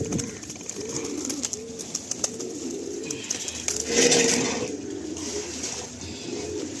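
Nasal Giribaj pigeons coo repeatedly in a loft, soft rolling calls overlapping near and far, with rustling and a brief louder flutter partway through.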